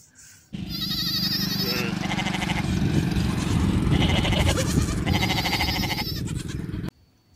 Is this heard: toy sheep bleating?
yes